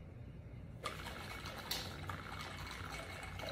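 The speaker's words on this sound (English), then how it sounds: "You just tell me when you want me to stop pouring, okay?" A bartender in Las Vegas pours liquor into a glass, a soft steady trickle running continuously under bar room noise, with a couple of faint clinks along the way.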